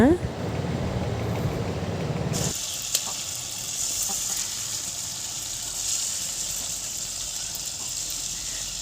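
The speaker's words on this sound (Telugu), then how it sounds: "కాగిన తర్వాత పునుగులు వేస్తుంది అమ్మ." Challa punugulu, buttermilk batter fritters, drop into hot oil in a home kitchen and set off a bright, steady sizzle that holds for several seconds after a louder opening burst, close by and even.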